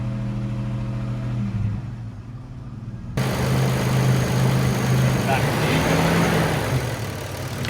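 A freshly rebuilt car engine runs steadily with a low hum. It swells louder partway through as the listener moves under the car, and voices are heard over it.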